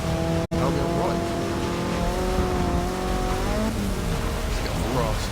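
A race car in Forza 6 screeches and slides under heavy braking, engine whine and tire noise sweeping up and down loudly and continuously, with a voice speaking over parts of it.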